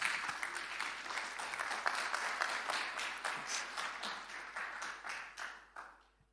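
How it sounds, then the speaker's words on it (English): Applause from a seated audience at the close of a conference session, dense steady clapping for about six seconds before thinning out and fading at the end. "Can we give these guys a round of applause?"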